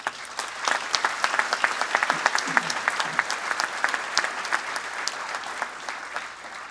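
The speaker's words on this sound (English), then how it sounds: "I believe that they also need a big round of applause." An audience applauds steadily at a university convocation ceremony, dense clapping from many hands holding at a fairly even level throughout with no voices over it.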